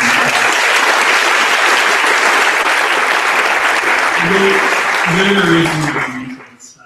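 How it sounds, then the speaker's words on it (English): Audience applause fills a demo day event hall, steady and loud throughout before tapering off near the end, with a few voices briefly speaking over the clapping. "And please get one more round of applause"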